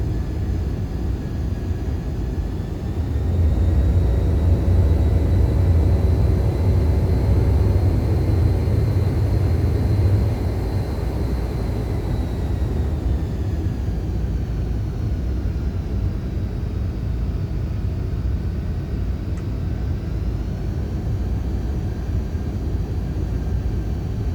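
Aircraft engine drone in Microsoft Flight Simulator X during a carrier approach, a steady, loud low rumble holding level throughout with a slight change in tone partway through and no talking.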